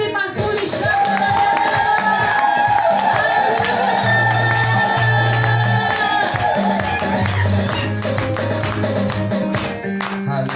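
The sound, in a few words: crowd applause, cheering and ululation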